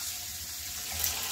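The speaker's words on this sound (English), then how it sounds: "So we're just going to keep rinsing this until it gets to the point where it's not releasing a lot of dye" Running tap water pours over dyed cotton yarn in a kitchen sink as it is rinsed, a steady close gush of water with no talking.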